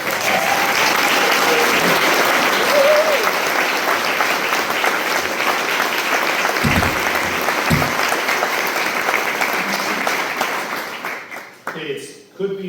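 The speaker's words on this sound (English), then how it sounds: "please let's give them a round of applause." A roomful of supporters at a Minnesota Senate District 58 campaign kickoff breaks into loud, steady applause for the campaign team, sustained for about eleven seconds before fading out as a voice starts to speak.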